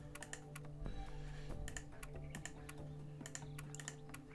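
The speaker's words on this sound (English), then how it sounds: "I'm just clicking all sorts of random stuff now." Quiet clicking from a computer mouse or keyboard while playing a point-and-click game, a series of sharp, irregular taps over a low background hum.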